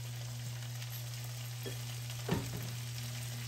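Capsicum, frozen peas and corn sautéing in a pan over low gas with ginger, a soft steady sizzle under a constant hum, with a couple of brief stirring clatters near the end.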